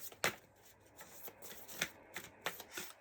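A deck of cards being shuffled, with several quick riffling bursts spread across a few seconds, close and fairly soft.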